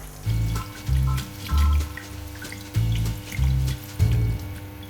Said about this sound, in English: Now I run some water and just very carefully kind of remove all of this black stuff, all that black char.